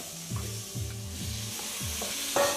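Beef sizzles steadily in a hot frying pan while a utensil stirs and scrapes it in a few repeated strokes, close up, with no talking.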